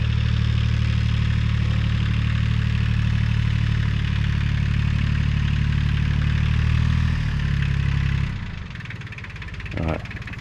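A tractor engine runs at a steady idle close by, a loud, constant low rumble that drops away sharply near the end, followed by a brief faint knock.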